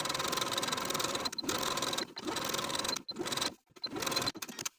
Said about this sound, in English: stitch just above the seam that we just sewed with about 1/8 of an inch seam allowance all the way around